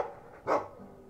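A single loud Mabari war dog bark in Dragon Age 2, one sharp burst mid-clip over a quiet game backdrop.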